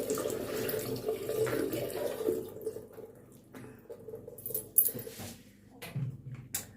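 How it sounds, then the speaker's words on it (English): Water from a tap splashes and trickles as it is poured onto a face for rinsing during a skincare routine, close and soft, with irregular splashes and drips and a faint whimper-like sound in places. "I want to pour water on my face."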